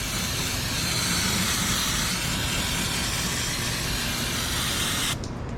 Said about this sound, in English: Give all of this a nice spray down.